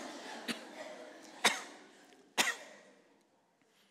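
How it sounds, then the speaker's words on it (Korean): Members of a church congregation at a Sunday service cough together on cue in three separate bursts, each loud and brief, with a quiet murmur of the room between them. "우리 같이 기침 한번 하겠습니다."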